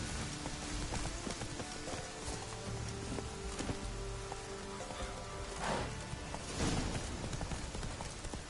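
Rapid, steady clip-clop of Geralt's horse Roach's hooves in The Witcher 3, close and continuous over a rainy-sounding background, with a couple of whooshing swells near the end.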